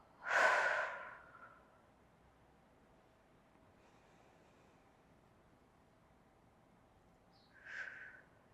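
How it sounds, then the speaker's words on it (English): A deep breath in and out during a yoga session, a soft, close exhale at the start and another quieter breath near the end, separated by near silence. "Take a few deep breaths in and fully let the breath go."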